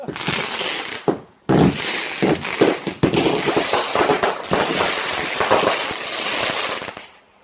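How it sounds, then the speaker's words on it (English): Fireworks go off on Bonfire Night in a dense, continuous run of crackling bursts and sharp bangs, loud and close, with brief gaps near the start before a steady barrage that cuts off at the end. "This is the same firework, Justin."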